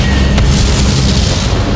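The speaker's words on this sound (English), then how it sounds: "Gunfire on the right, explosion over there." Naval gunfire and an explosion in the World of Warships game, a loud heavy boom with a sharp crack near the start, followed by a rolling, sustained rumble.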